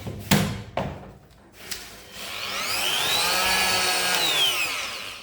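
An electric oscillating multi-tool fitted with a sanding pad clicks and bumps a few times, then spins up. It settles into a steady, loud, high buzzing whine that holds for several seconds with no talk over it.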